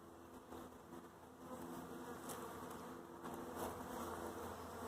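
Honey bees buzzing around a hive after an abscond and swarm capture, a soft, steady multi-insect drone close by with a few louder individual buzzes passing the microphone.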